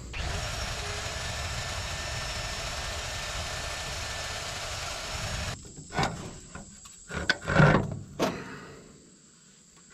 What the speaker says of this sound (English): All right, so I'm drilling it a little bit bigger.